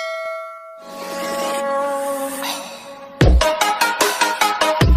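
A short synthetic chime rings out with a clear tonal ding, followed by a quick series of bright clanging hits near the end, loud and alone without any voices.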